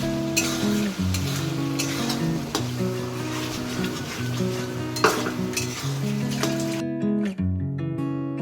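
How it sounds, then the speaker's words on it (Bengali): Chicken kosha sizzling in a pan as a spatula stirs it, with loud steady frying and repeated metallic scrapes and clinks against the pan, ending in a quieter stretch of scattered sizzle. "আজকে এখানে এখন মা চিকেন কষা রান্না করছে"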